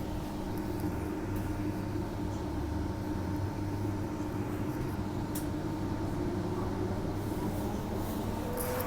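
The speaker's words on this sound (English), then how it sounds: "Oh, there goes another Midland train." A Transperth Midland line train passing, a steady rumbling roar with wheel and motor hum held at an even level throughout, with no talk.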